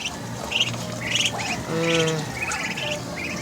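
Chicks six days old, with a mother duck nearby, give a run of sharp squawking and chirping calls, fairly close and loud, with several overlapping peeps.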